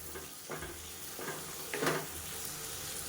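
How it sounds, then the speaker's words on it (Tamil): Beetroot and tomato sauté in a pan, giving a soft, steady sizzle with a few faint scraping stirs, quiet and close, with no voices. "இப்போ பீட்ரூட் சேர்த்துட்டு நல்லா வதக்கி விட்டுட்டேன்"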